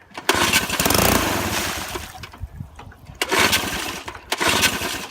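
A 1964 Wards Sea King 3 hp outboard motor, primed and choked, sputters to life in loud bursts, revving unevenly, dying back, then catching again in rough surges.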